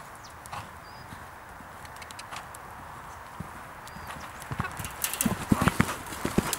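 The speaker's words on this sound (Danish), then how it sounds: "Prins er begyndt på at lande i rigtig galop." Hooves of Prins, a mare, drum on the ground in a steady clip-clop that grows louder and more forceful toward the end as she moves into a gallop, with faint background noise and no talking.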